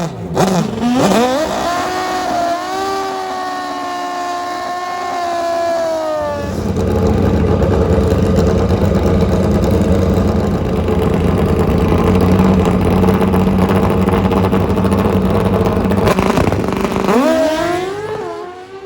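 NHRA Pro Stock drag racing motorcycles roar down the track, engines screaming with rising revs, then a sustained loud, dense howl as the bikes run full throttle toward the finish line, close and powerful with no talk over it.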